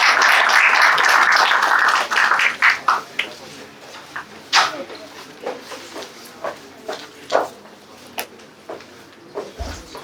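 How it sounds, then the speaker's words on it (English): Audience applause for the first presenter at a startup pitch event, a dense burst of clapping in the opening seconds that thins to scattered claps and fades out. "Guys, can we have a huge round of applause?"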